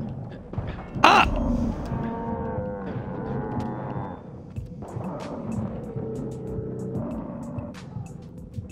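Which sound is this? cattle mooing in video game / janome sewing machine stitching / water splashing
cattle mooing in video game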